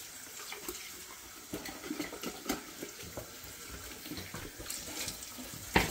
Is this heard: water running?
yes